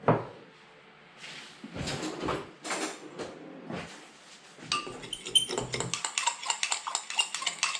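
Fish parillada ingredients being mixed in a dish, with clinks and scrapes of utensils against the dish, sparse at first and then a quicker run of light taps near the end, close, with no talking.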